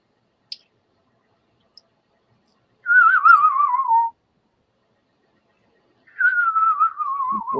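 A person whistles the tune Dixie in two separate phrases, each a clear, moderately loud melodic line that slides downward. A quiet pause lies between them, and a couple of faint clicks come before the first phrase.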